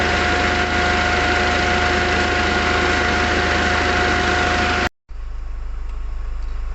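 A 2004 Hyundai Santa Fe engine idles close and steady with a constant hum, then cuts out for a split second before resuming a quieter, even idle.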